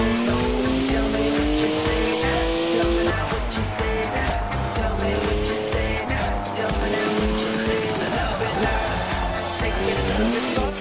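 A BMW with a three-litre twin-turbo straight six, 335 horsepower, driving in the Forza Horizon 4 racing game, its engine droning steadily with shifting revs and tire squeal throughout, loud and continuous with music-like layering.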